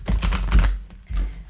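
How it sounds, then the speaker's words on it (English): A Sufi Wisdom Oracle card deck shuffled by hand in a quick riffling burst, close and fairly loud, then a brief pause and a second shorter flurry of card snaps. "I'm going to shuffle it 3 times here."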